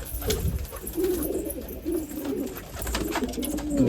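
Pigeons cooing nearby in soft, repeated low warbling calls over a light background hum, no speech.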